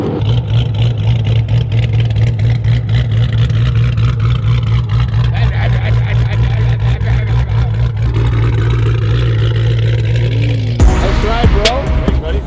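A loud, deep cammed Hemi V8 with long-tube headers and a Hellcat OEM catback idles with a choppy, lopey rumble, then revs sharply near the end, throaty exhaust close by.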